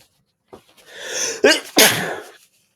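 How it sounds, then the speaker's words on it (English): A single sneeze preceded by a couple of sharp intakes of breath, close and fairly loud, with silence on either side. "hold on, I think I gotta sneeze"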